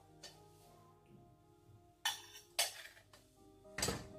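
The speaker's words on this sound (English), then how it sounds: "And right now I'm going to be pouring the oats" Oats poured into a blender jar while making homemade fruit puree for babies, heard as a few short, close rattling bursts with quiet gaps between them and no talking.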